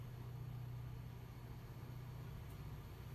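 Diesel locomotive engine running in the Railroader game, a steady low throbbing hum with a constant rumble, quiet and unchanging for the whole stretch with no talk.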